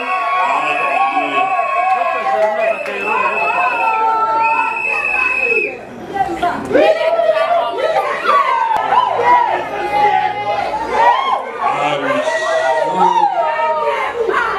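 Congregation at a wedding blessing bursting into loud cheering and acclamation, with high, sustained ululating cries and overlapping shouts that rise to an excited, crowded din after an opening stretch of held tones.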